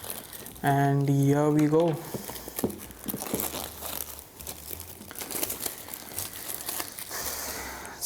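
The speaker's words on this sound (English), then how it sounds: "Let's peel this plastic off" Crinkling plastic wrap being peeled off a Sony WH-1000XM3 headphones box, a few close crackling tears and rustles, with a voice speaking briefly.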